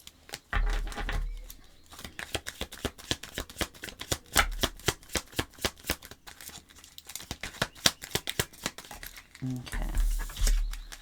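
Tarot cards are shuffled by hand, a run of quick papery riffles and flicks in irregular bursts, close and fairly soft, with a faint voice now and then.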